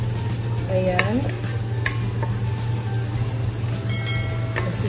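Garlic sautés in a pan, a steady close sizzle with a few scrapes and light clatters of utensils over a low constant hum.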